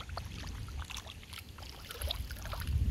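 Warm rainwater running and trickling down a drain during a heat wave, a steady close watery wash with small splashes, no voices.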